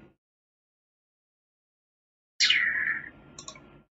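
A single computer mouse click, then a short burst of clicking and rattling after a long silence. The sounds are close and fairly loud, with a faint click at the very start.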